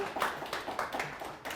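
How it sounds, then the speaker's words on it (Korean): A small audience claps at a Korean lecture on gut microbes, a sparse, uneven patter of hand claps in quick bursts, moderately quiet and without voices over it. "동의하신 분 박수 크게 한번 쳐보세요."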